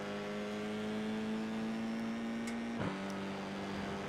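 Formula 4 race car at Winton Raceway holding a steady engine drone, then a sudden lift off the throttle with a quick blip, heard from onboard and fairly faint.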